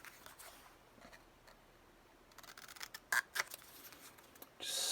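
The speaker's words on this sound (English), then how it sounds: "Just snip, snip, snip." Scissors snip out small paper quotes in quiet, close-up crisp cuts, a few scattered light clicks and then a short cluster of sharper snips, ending with a louder rustle of paper.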